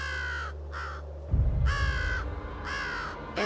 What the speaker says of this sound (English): I hear this bird and he is just screaming. And it was a big crow.